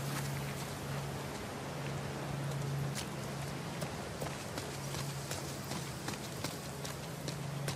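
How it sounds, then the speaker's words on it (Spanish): Horse hooves clip-clop steadily in The Last of Us Part 2, in Seattle, over a constant hiss like rain, at a moderate, even pace. "Pregunto si tendré que abandonar el caballo."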